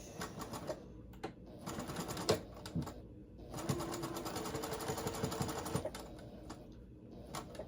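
A sewing machine in a home sewing room runs in bursts of rapid mechanical stitching, stopping briefly and starting again, close and clear with no talking.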